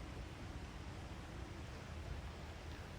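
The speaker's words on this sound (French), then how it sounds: "On entend également un ruisseau." A stream runs near a countryside gîte at a fish farm, heard as a soft, steady broadband rush of flowing water with no breaks or voices.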